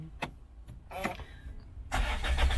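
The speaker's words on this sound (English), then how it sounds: "I've got the key in my pocket, Tyler, so you should be able to start it up." A Land Rover Freelander 2 with automatic gearbox starts up: a few faint clicks and a brief cranking whir, then the engine catches and settles into a louder steady run close by.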